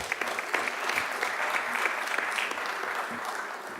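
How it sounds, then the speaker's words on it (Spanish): Audience at a news panel discussion giving a round of applause, close steady clapping with distinct individual claps throughout, no talk over it. "Le pido un fuerte aplauso para él,"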